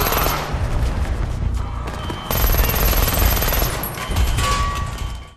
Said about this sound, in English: Zhang's people burst in and open fire.